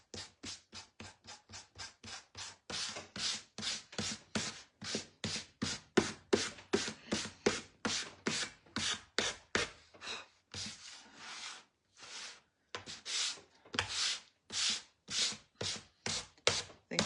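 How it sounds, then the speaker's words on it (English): Hand sanding along the edges of a hand-painted wooden sign, a long run of rhythmic rasping strokes close by, steady back-and-forth scrubs with a brief pause midway before the strokes resume. "Let me just sand the edges of this a little bit."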